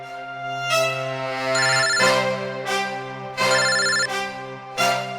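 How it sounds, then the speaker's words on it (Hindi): A mobile phone ringtone plays loudly and alone, a repeating bright melodic ring with several bursts over about five seconds, set in an Indian crime-investigation drama scene. "यहाँ पे किसका फोन बज रहा है?"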